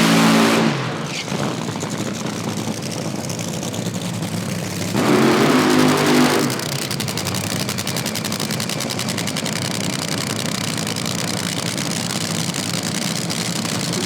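A Pro Mod drag racing car at an IHRA Outlaw Nitro Series qualifying event revs hard on the start line, a loud rattling roar that surges in two bursts before settling into a sustained drone.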